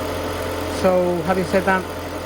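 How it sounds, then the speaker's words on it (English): A 2016 Toyota Auris engine idles with a steady low hum throughout, close by, while someone talks over it. "engine's running nice and sweet"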